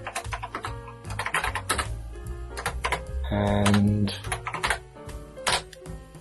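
Keys clatter on the keyboard of a repaired TI-99/4A home computer, quick irregular clicks and taps close by, with a brief tonal beep midway and a little speech mixed in.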